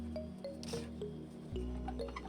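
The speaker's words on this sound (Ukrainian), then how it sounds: "Далі беру великі помідори і пропускаю через соковитискач." Large tomatoes being pressed through a juicer give wet squishing and dripping sounds over a steady low motor hum, with a louder squelch partway through.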